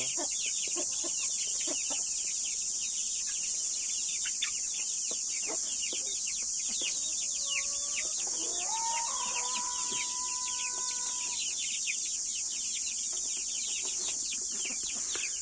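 A hen clucks softly while Indian chicks peep in quick, high chirps, all under a constant high-pitched hiss of insects or background noise.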